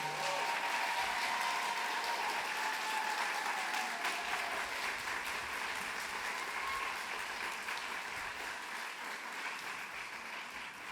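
Sustained applause from an audience greets BSBS inductees at a white coat ceremony, steady and full for about ten seconds before tapering slightly, with no talking.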